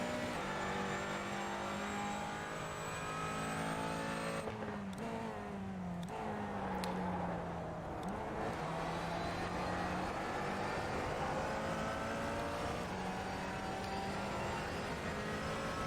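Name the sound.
race cars in racing video game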